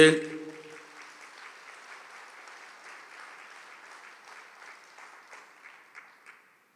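An audience at a Catholic priest's talk claps with raised hands: a brief loud sound at the start, then a moderate, steady patter of many hands that fades away near the end.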